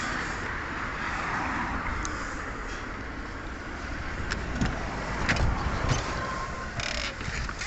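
Car driving through a town, a steady interior road and engine rumble with tire noise, continuous and moderately loud, with a few faint clicks and knocks.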